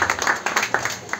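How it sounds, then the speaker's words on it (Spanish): An audience at a singing competition gives the contestants a quick round of applause, a brief cluster of sharp, close claps. "un fuerte aplauso para ellos antes de empezar con el juego"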